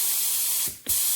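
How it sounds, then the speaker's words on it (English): Steady hissing rush of a basic HVLP spray gun spraying lacquer at about 2 bar, close and loud, cut by a short pause before the spray resumes. "This is just a basic HVLP gun. We're gonna spray it."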